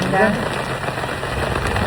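Steady rain falling at a campsite, a dense, even hiss of drops pattering on surfaces close by, continuous with no other clear sounds over it.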